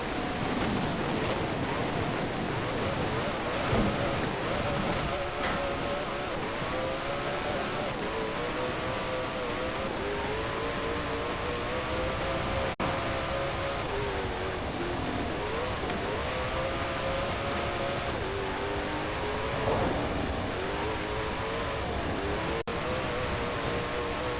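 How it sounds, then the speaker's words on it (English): A 2020 Koenigsegg Jesko hypercar engine in the video game Forza Horizon 4 drones steadily at high revs, with pitch sweeping slightly up and down over a constant rushing noise, no talking. "I'll just let you listen to the engine for a little bit"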